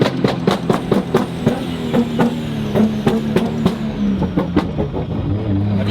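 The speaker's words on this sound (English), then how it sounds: "Have you just got to keep the revs up to stop it from bogging down?" A Nissan Silvia S15 with anti-lag is held at steady high revs near the listener, its engine note sliding up and down while sharp, rhythmic pops and crackles repeat throughout.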